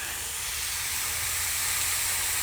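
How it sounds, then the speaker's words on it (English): Constant hiss of steam from a clothes iron pressed onto a wet cloth laid over dents in a wooden dresser, steady and close without a break. "supposedly that steam will pop those dents out"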